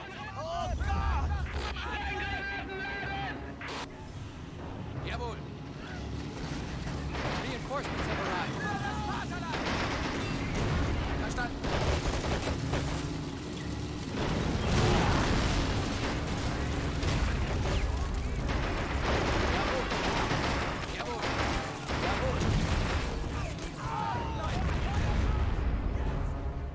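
Mortar blasts and rifle and machine-gun fire rumble through a World War II battle at Seelow Heights in Men of War 2: Assault Squad 2, dense and continuous with voices talking over the din.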